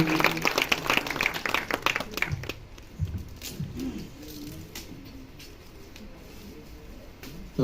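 An audience applauds at a book launch during a literary club seminar in Malerkotla. A burst of dense clapping fills the room, then thins and fades into scattered claps and room noise.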